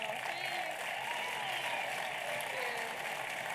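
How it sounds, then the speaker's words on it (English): Steady, dense applause from a gala audience at a medical center's annual fundraiser, a continuous wash of many hands clapping without break, full and even throughout. "Let's give Magalie a round of applause."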